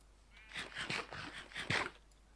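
Sheep bleat faintly in a string of short, wavering cries, several in quick succession, with no talking, in the video game Minecraft.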